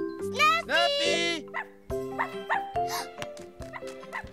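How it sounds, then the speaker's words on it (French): A dog barks in several short yelps mixed with whining, close by, amid other brief animal-like calls. "Écoute, les aboiements viennent d'ici."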